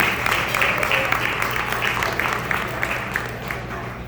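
A room full of people clapping steadily, dense and fairly loud throughout, with a low background hum.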